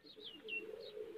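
Pigeons, a pair with young birds nearby, coo in a soft, steady, low warble, close and faint, with a few higher chirpy notes on top and no voices.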